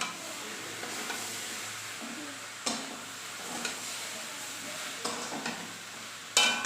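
Aloo dum cooking in a home kitchen pan, with a steady soft sizzle of frying under repeated scraping stirs and a few sharper clinks of a utensil against the pan.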